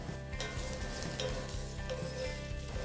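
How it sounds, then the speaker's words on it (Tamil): Green chillies, shallots and curry leaves roast in a pan over medium heat for a spicy mutton dry roast, with a close, continuous sizzle and rhythmic stirring scrapes; no one talks. "இது எல்லாத்தையும் சேர்த்துட்டு நல்ல வாசம் வர்றது வரைக்கும் இதை வந்து நம்ம வறுக்கணும்"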